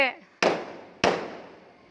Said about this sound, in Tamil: அடி இது என்ன வெடியா?